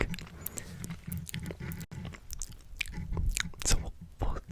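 Lay's potato chips being chewed close to the mouth, wet crunchy bites and munching in uneven bursts, intimate and quiet, with faint whispery breath between.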